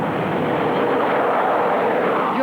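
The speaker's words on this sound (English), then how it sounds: "Your plane takes off." A fixed-wing airliner takes off, its engines producing a loud, steady, broad roar that fills the whole stretch without breaks.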